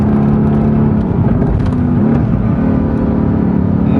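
Mercedes-AMG GTS with a front-mounted engine, loud and close while cornering on a Genting mountain road under light throttle, a steady droning growl with slight rises in pitch and no speech.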